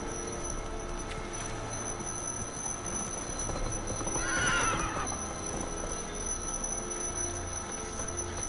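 Roach the horse in a PS4 video game, a single clear neigh rising midway over a continuous background rumble and faint hoof clopping.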